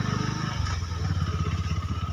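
A motorbike rides along a rough forest trail near Sedam Jharna waterfall in Sarguja, Chhattisgarh, its engine a steady close pulsing putter with faint clattering over uneven ground.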